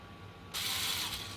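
A screwdriver driving small screws into the steering-servo lid of a Tamiya Subaru radio-controlled car, a quiet close background hum that jumps into a brief burst of fast mechanical clicking and ratcheting.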